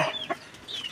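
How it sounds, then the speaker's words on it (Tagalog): A brooding hen clucking close by in a couple of quick, short bursts, with faint chirps in the background. "May nalimlim na manok doon."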